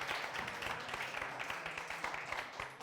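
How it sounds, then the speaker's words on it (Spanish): An audience applauds in a theatre stalls for Trini, a supporter and the mother of Mar Ortiz, with steady, dense clapping throughout and no pause. "Fuerte aplauso para ella."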